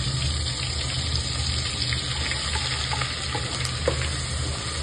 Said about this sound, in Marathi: चांगलं लाल असं भाजून घेऊ त्याला. तेल सुटेपर्यंत याला भाजायचं.